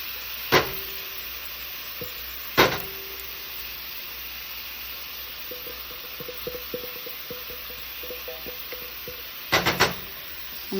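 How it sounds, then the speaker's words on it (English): Fish and onions sizzling in a pan, a steady close frying hiss running throughout, with a few sharp clanks of utensils against the pan and light tapping near the end. "See how the onions and everything was cooking"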